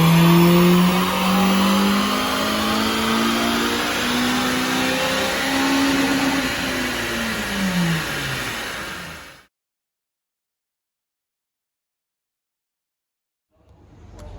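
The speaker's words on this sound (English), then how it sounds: "We're going to centralise it on the dyno, and then we're going to do a power run." A Honda Civic FN2 Type R with carbon airbox and twin-exit exhaust roars through a dyno power run, engine note climbing steadily for about nine seconds before cutting off abruptly into silence, then a brief restart of noise at the end.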